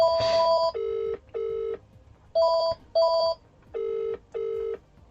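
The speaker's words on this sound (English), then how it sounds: "That's the handset ringing here." A telephone handset rings during a live quiz-show phone call, sounding in clear repeated electronic bursts, roughly paired and evenly spaced, loud and close with no talking over it.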